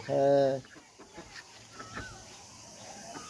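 A domestic hen, a mother hen among chicks, gives a loud, drawn-out cluck right at the start, then falls away to faint, scattered background noises.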